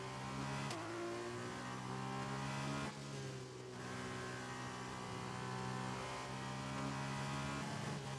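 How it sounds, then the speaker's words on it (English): Race car in the F1 2021 video game, a steady high engine drone broken by abrupt downshifts with sharp drops and climbs in pitch, loud and close with no talk. "those downshifts, they feel painful to listen to"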